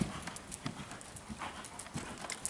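A horse canters in an arena with a steady three-beat rhythm of soft hoof thuds, moderately close, with some breathing and faint background noise.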